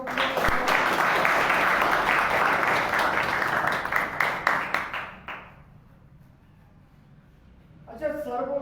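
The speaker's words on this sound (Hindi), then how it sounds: "चलो जोरदार ताली सबको" An audience at a talk gives a loud round of applause, a dense roar of clapping that tapers into scattered claps and stops, followed by a brief voice starting to speak.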